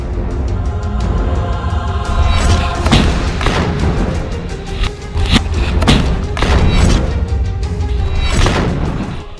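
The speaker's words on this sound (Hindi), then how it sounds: "हमास की अल कसम ब्रिगेड के ये लड़ाके आरपीजी, थर्मोबैरिक ग्रेनेड, रॉकेट से इजरायली सेना पर बेहद पास से हमले कर रहे हैं।" RPG, thermobaric grenade and rocket explosions in close-range combat in Gaza, a loud series of heavy booms and thuds over a dense rumbling background, with no talk.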